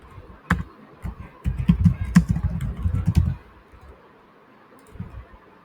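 Typing on a computer keyboard close up: scattered key clicks, then a quick burst of rapid keystrokes for about two seconds, followed by quiet and a couple of final taps.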